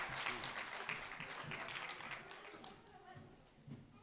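An audience at a Hindi comedy poetry recital claps in a soft, scattered round that fades after a few seconds, faint and distant, with a voice talking over it.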